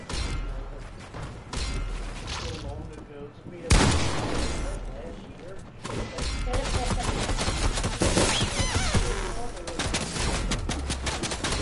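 Airstrike explosions boom in a Fortnite Creative match: a dense barrage of blasts and rapid gunfire-like bursts peaks in one sharp, loud crack, with voices talking over the chaos throughout.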